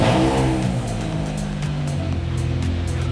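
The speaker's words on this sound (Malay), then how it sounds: "Mari kita dengar exhaust baru." A newly fitted exhaust revs loudly and close by, its pitch dropping and settling into a rough, steady drone for a few seconds, with no talking.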